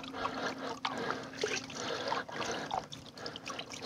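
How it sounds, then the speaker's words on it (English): Gold concentrates swished and sloshed in water in a prospecting pan, with close, steady trickling and splashing for a few seconds and no talk over it. "now we'll just do a kind of a quick pan here of our concentrates."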